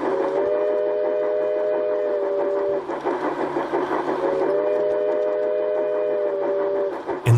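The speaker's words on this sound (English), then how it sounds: "I like the sound effects that Piko builds into their model steam trains," A Piko model steam train's whistle sounds in two long sustained toots separated by a brief gap, over steady mechanical chuffing and hum.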